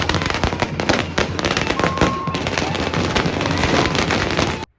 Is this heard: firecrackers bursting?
yes